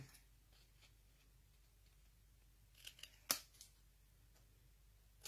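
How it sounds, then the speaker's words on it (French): Small paper tabs being trimmed with scissors for a 3D cube card: a few quiet snips and one sharp cut near the end, close and faint in a quiet room. "Et je vais recouper mes petites languettes."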